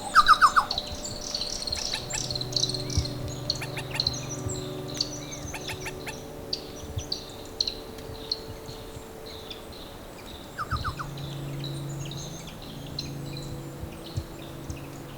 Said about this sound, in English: The flowers in the treetops provided a feast for insects that in turn fed the birds that created an incomparable musical environment